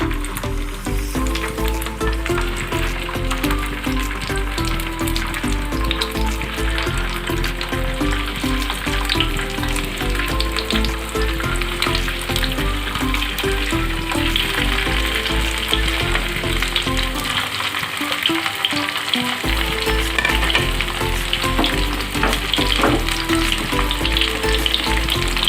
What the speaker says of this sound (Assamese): এতিয়া তেল গৰম হৈ গ'ল, পনীৰখিনি দি দিছোঁ। এনেকৈ চেলো ফ্ৰাই কৰি ল'ম পনীৰখিনি।